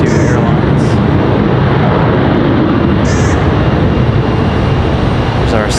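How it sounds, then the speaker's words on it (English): A Boeing 737 jet arriving from Denver at Raleigh-Durham International gives off a dense continuous engine roar, loud and close, with brief sharper bursts on top. "There's our 737 from Denver."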